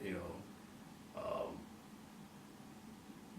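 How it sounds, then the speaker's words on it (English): A house cat close by gives a couple of short vocal sounds tagged as purring, with someone talking around them in the background of an interview. "Hey, there's my cat."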